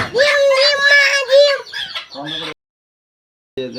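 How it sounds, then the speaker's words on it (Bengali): A flock of farm chickens clucks and squawks up close in a loud, overlapping burst for about two and a half seconds, then falls silent before another call starts at the end. "এইখানে তো অনেকগুলো মুরগি"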